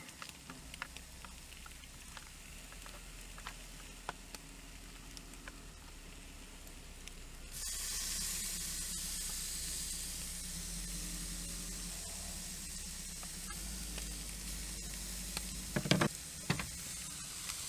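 Mushrooms sizzle while frying in a pan at an outdoor camp. A soft crackle becomes a louder, steady hiss partway through, with occasional scraping clicks from stirring near the end.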